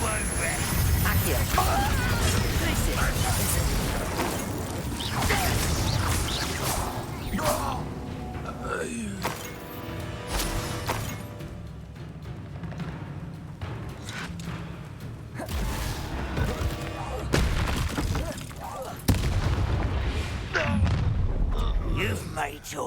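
Combat spells in Hogwarts Legacy, a run of blasts, booms and whooshing magical impacts in a duel, with loud bursts spread through a long stretch of battle noise and voiced combat shouts.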